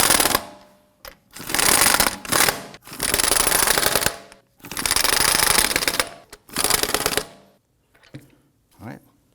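An impact wrench snugs down the lug nuts on a Volvo XC90 in a series of loud rattling bursts, about six of them separated by short pauses, close by.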